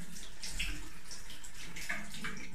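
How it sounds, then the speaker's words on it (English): Cool water is splashed onto the eyes a few times, giving soft, close splashes and trickles over a faint running-water background. "Then splash your eyes a few times with water."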